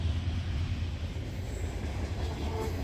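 A GE Evolution Series (Gevo) locomotive hauls a mainline freight train, a steady, deep rumble of engine and rolling cars that stays even throughout.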